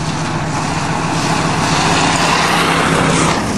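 Motorized lawn chairs racing flat out, a loud continuous engine roar that holds steady and close for the whole stretch with no talk over it.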